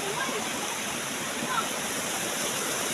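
Steady, dense rush of falling water fills the whole scene, loud and continuous like a nearby waterfall in Corte Carmen, Cebu, with no breaks.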